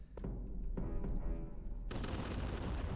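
Musket volleys in Totally Accurate Battle Simulator, a game battle: a few sharp shots, then a dense crackling burst of gunfire carrying on loud to the end, with no talk.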